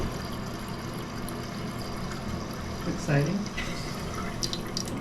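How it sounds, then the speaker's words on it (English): Water runs steadily into a toilet tank as it refills after a flush, a soft continuous hiss and trickle under low background noise, with a brief spoken word partway through. "And there's the water coming up."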